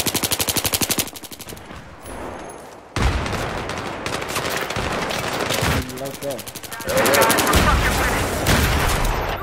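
Loud automatic weapon fire in a Battlefield 3 multiplayer match, dense sustained bursts of rapid shots with short breaks, mixed with explosions and battle noise, a voice speaking at times underneath.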